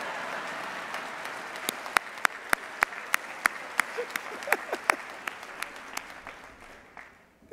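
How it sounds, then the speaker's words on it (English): An audience claps steadily for several seconds, with a few sharp louder claps standing out before the applause fades away. "Give Bailey Dickens a round of applause"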